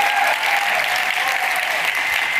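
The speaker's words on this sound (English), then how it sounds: "Let's give her another round of applause" Dense applause from an audience at a small-business conference, a continuous roar of clapping that holds steady and loud throughout.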